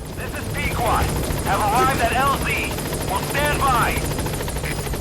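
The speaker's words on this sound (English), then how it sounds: "Helicopter has arrived." A helicopter arrives in Metal Gear Solid 5: The Phantom Pain, giving a steady rotor drone and whine throughout, with voices talking over it.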